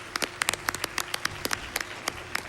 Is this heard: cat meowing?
no